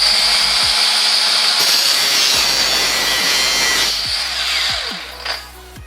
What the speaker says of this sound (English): I could probably grind this all the way down